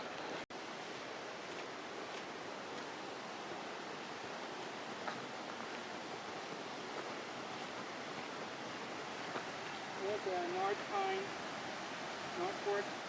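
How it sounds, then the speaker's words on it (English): A continuous steady rush of water from Lone Pine Creek, a mountain stream on the Mt. Whitney main trail, filling the whole stretch as a broad even hiss, with a brief faint sound of birds or voices near the end. "I think we're gonna come up to a stream here because I can hear water to my left."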